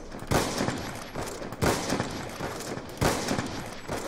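Gunfire in the video game Black Ops 2: three loud, dense bursts of rapid shots about a second and a half apart, each fading into a rumbling tail, with no talking.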